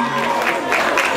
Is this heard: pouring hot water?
no